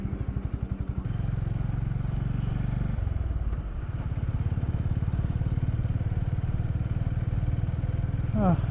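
A motorcycle engine putters steadily at close range, its rhythmic thrum shifting as it rides along near a toll on a road trip near Kolkata, with a voice speaking briefly over it.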